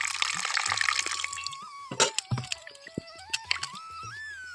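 Water is poured into a pot of jackfruit peel for boiling, starting as a steady splashing stream, then breaking into scattered drips and splashes, close by and fairly quiet.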